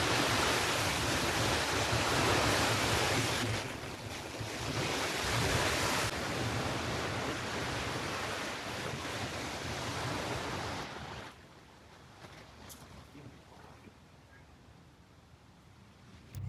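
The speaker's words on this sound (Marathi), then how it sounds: "शेजारीच नदी वाहत होती. त्याच्याच पाण्याचा हा खळखळ असा आवाज येत होता." A river flowing beside a farm road near a village with rice fields, giving a loud, steady rush and gurgle of water that drops noticeably quieter for the last few seconds.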